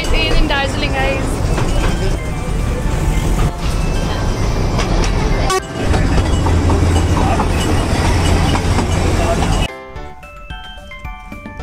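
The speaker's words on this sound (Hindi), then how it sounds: "it's time for toy train" Darjeeling toy train running in a World Heritage hill area, a loud steady rumble with rhythmic wheel clatter close by for most of the clip, cutting away near the end to quieter sounds.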